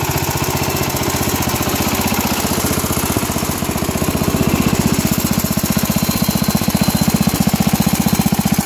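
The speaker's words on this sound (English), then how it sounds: "So here it is with the engine running." An SS12 machine's engine runs steadily close by, a loud, even, fast-pulsing chug with a constant rhythm and no voices.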